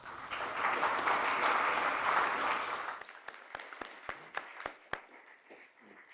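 An audience at a Republican club candidate night in The Villages, Florida, applauding the next Wildwood city commissioner. A dense burst of clapping lasts about three seconds, then thins out into a few scattered, isolated claps.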